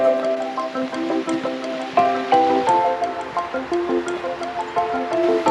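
Steady rushing water of Black Creek, continuous and fairly close, with bright trickling and splashing detail throughout.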